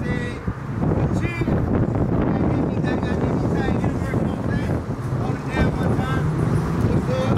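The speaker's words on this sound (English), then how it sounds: "Don't mind the wind, guys. It's very windy out here." Strong wind buffets the microphone outdoors, a steady roar of broadband rumble running through the whole stretch, with people talking underneath it.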